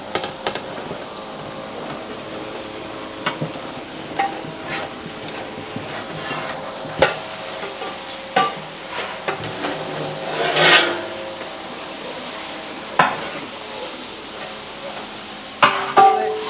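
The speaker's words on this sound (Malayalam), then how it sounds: "ആറര കിലോ സവാളയാണ് നമ്മൾ തട്ടി കൊടുക്കുക" Six and a half kilos of onions frying in a large pot for a big batch of chicken curry, a low continuous sizzle broken by repeated scraping and rasping stirs and occasional metallic knocks.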